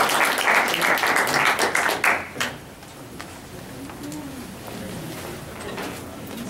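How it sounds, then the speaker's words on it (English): Group applause at a Cache Valley League of Utah Writers meeting, a loud burst of many hands clapping that fades out after about two seconds, leaving a quiet room murmur. "One more round of applause for everyone."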